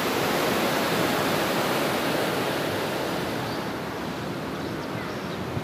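River water rushing near a dam at Benanga, a loud, steady broadband wash of flowing water that stays constant and close with no talk over it.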